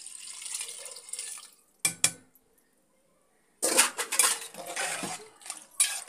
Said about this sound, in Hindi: अब देखिए यहाँ पर हम पानी ऐड कर देंगे।